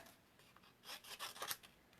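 Scissors cutting out a paper card piece make a few quiet, close rasping snips in quick succession.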